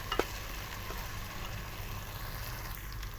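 Onions fry in a pan until golden for aloo matar masala, a steady close sizzle throughout with a brief clatter of stirring near the start.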